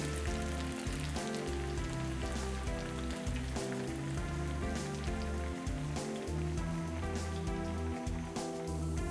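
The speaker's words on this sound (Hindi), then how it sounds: "फिश को डीप फ्राई करना है।" Fish deep frying in hot oil for a Lahori-style spicy fried fish: a dense, steady crackling sizzle that holds loud and even throughout, with no voices over it.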